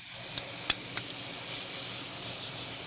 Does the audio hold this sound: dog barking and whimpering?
no